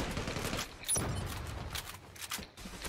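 Rapid gunfire bursts from the online shooter Zula, a loud crackling fusillade of shots with a sharp peak near the start, continuing as broadband rattling throughout.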